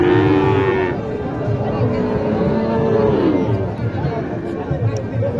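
Cattle at a rural livestock market (haat) in Naogaon, including Sahiwal bulls, low drawn-out moos rising and falling over steady crowd chatter and background voices.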